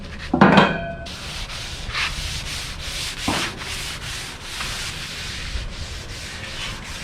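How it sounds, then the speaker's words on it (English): A cloth rubs acetone over a welded steel ramp for a dump trailer, a close scrubbing swish with a few short bursts of wiping and a sharp rub at the start. "I'm just gonna clean them up with acetone."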